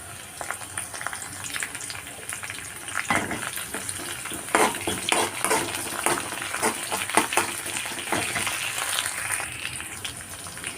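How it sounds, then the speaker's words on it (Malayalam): Garlic, ginger, green chilies and curry leaves fry in a pan for a drumstick-leaf pickle, with a busy crackling sizzle and frequent scraping stirs that grow louder midway; no one speaks. "ഇത് നന്നായിട്ടൊന്ന് വഴറ്റിയെടുക്കാം ഇതിലേക്ക് കുറച്ച് കറിവേപ്പില ഇട്ട് കൊടുക്കുന്നുണ്ട്"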